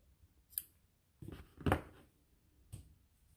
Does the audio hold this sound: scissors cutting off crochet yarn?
yes